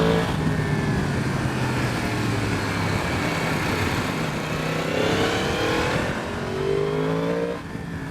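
A 2023 Yamaha MT-10 SP engine revving and pulling through gear changes on a wet, twisty road, a steady close roar with rising and falling pitch sweeps and a brief dip near the end.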